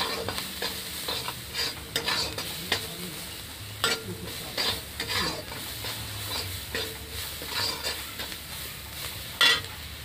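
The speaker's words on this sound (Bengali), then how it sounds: "আবার একটু ভেজে নেব।" Potatoes fry in a pan with turmeric and salt, a steady sizzle broken by repeated scraping stir strokes, close up and without speech.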